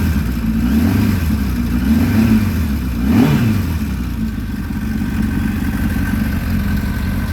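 A 1000 cc-plus sport motorcycle with aftermarket dual exhaust blips its throttle close by, rising and falling in three quick revs before settling into a steady, loud idle.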